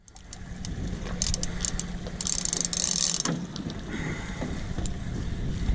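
Fishing reel cranked during a fight with a large shark on a boat off Montauk, a steady close mechanical whir and ratcheting clicks under gusting wind noise.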